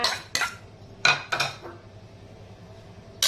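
A pork head salad with onions being tossed in a bowl, giving several sharp clinks and scrapes of a utensil against the dish, with short bursts separated by quiet gaps.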